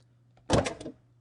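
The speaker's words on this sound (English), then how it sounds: "Looks like we got a Crown Victoria right here." A Ford Crown Victoria police car door opens in a single short mechanical clunk with a brief rattle, close and clean against a faint steady hum.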